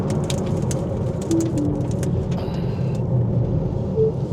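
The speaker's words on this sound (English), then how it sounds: "avoiding this truck throwing up all the pebbles" Pebbles thrown up by a truck pelt a car on the road near Marble Falls: a quick series of sharp, close ticks over the steady rumble of the road and engine.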